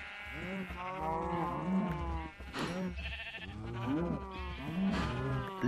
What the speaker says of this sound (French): Je tue les mamans vaches et les papas vaches.